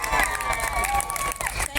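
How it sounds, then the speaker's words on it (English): A large crowd at the opening of Boorloo Bridge, a dense roar of cheering and crowd noise, loud and close, with voices mixed in. "This is a huge crowd here and a huge crowd on the bridge."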